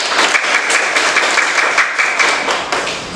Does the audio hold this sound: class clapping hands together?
yes